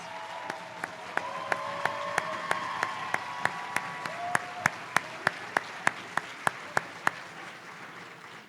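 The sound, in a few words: audience applauding AmeriCorps program directors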